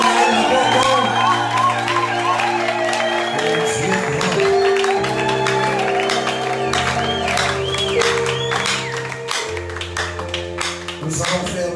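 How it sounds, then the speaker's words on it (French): A church congregation erupts in loud acclamation: sustained clapping, cheering, whoops and shouted voices, with sung or ululating tones rising through the applause, close and energetic throughout. "Nous allons la manifester par des acclamations."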